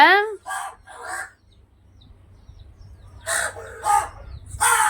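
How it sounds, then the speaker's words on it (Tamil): A crow perched on a bathroom door caws loudly and harshly up close while waiting for food, in two clusters of repeated calls separated by a quiet gap. "ஏய் காக்காக்கு சாப்பாடுக்கு போகிறோம் இங்கே பாருங்கள் பாத்ரூம் கதவு மேலே நின்று எப்படி கத்திட்டு எட்டி பார்க்குறது பாருங்க"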